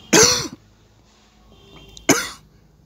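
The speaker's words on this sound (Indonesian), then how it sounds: "dari tadi tiba-tiba batuk ini" A man coughs in two short, hard bursts about two seconds apart, close to the microphone, with quiet room tone in between.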